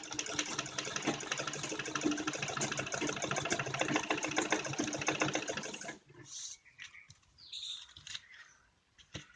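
A sewing machine stitches cloth onto buckram along a curved necklace-style neckline, running in a steady, loud mechanical whir for about six seconds, then stopping and giving way to softer, irregular handling noises.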